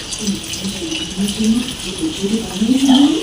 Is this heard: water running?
yes